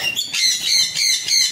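A pair of pineapple conures in a bird loft squawk close and loud, three or four harsh, raspy calls in quick succession with no talk.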